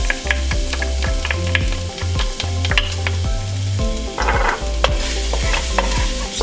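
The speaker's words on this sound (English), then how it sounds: "I'm gonna add in the minced garlic." Minced garlic sizzles in olive oil in a pan for pad thai, a steady loud frying hiss broken by regular scraping strokes of a stirring utensil, close and with no talk.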